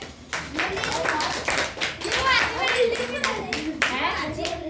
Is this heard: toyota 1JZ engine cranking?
no